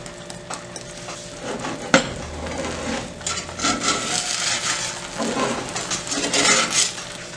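An egg frying in oil in a pan, a close crackling sizzle that swells and fades in bursts, with a sharp metallic clink near the start and spatula scrapes, no talking.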